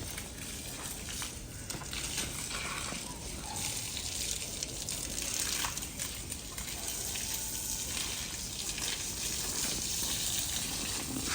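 A child plays with running water while watering plants, a steady, faint gushing stream like a hose or tap flowing without pause.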